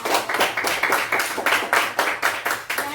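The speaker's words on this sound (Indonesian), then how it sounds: "tepuk tangan untuk hasil pengamatan" A classroom of students claps in steady rhythmic unison, close and fairly loud, with a faint voice underneath.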